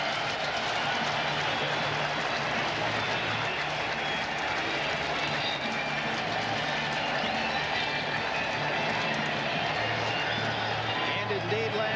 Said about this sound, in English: the crowd loves the defense